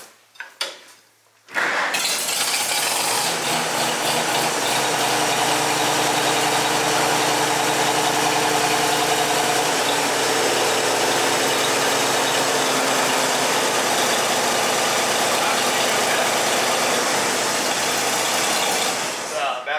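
A farm tractor engine on an Iowa century farm catches after a brief start-up sputter, then runs loud and steady close by, with a constant rumbling drone and vibration throughout.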